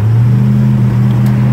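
A tuned 1973 Dodge Dart with a 340 cubic inch V8 runs close and loud, its deep steady rumble holding at an uneven idle without any clear revving.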